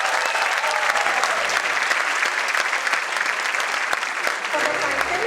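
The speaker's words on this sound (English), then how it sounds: "Let's give a big round of applause for 3 copyrights" Sustained, dense applause from a conference audience at an alumni conference inauguration, steady and fairly loud throughout with no break.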